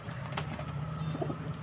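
Teddy pigeons give soft, low cooing calls, a faint, close murmur repeating a few times against quiet background.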